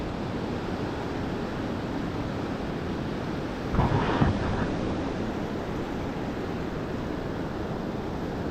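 Ocean surf at Newport, Oregon makes a steady broad wash with wind noise, and one wave crashes a little louder near the middle.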